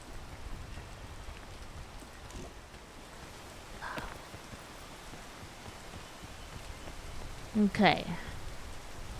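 Rain falls steadily in the background as a faint, even hiss under a brief spoken word, with a couple of soft knocks and a short vocal burst near the end.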